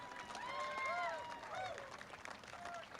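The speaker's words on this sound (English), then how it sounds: "A round of applause." Crowd applauding and cheering for the USF2000 race winner after a street race in Toronto, a faint, distant, steady wash of clapping with scattered whistles and shouts.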